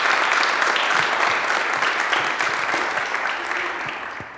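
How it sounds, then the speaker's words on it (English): A big round of applause at a National Honor Society and service awards ceremony; sustained, even clapping from a sizable audience that slowly fades toward the end. "So give them a big round of applause."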